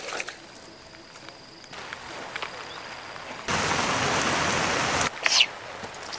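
Rain falling during a rainy-day fishing trip, a steady hiss of drops on water and surfaces, briefly louder in a burst near the end, with no clear talk.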